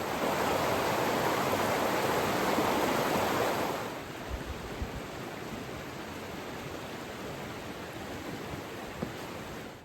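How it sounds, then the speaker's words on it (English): River flowing down a huge Scottish glen in winter, a broad steady rush of water, loud at first then softening to a quieter continuous wash. "We're pretty much just following this river off to the left here, all the way down this huge glen."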